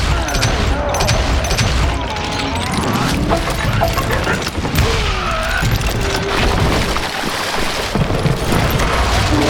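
Gunfire fills a firefight in the Western video game Call of Juarez: Gunslinger, heard as dense, loud, continuous volleys of shots and booms layered over game effects, with voices faintly mixed in.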